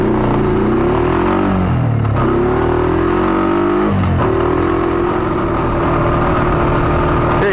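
A motorcycle accelerating away down a road, its engine loud and close, pitch climbing and dropping through gear changes before settling into a strong, steady drone.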